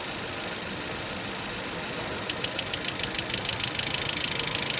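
A Changan Plus car engine idles with a slight shaking: a quiet, steady rough drone that picks up a faint, rapid rhythmic ticking partway through.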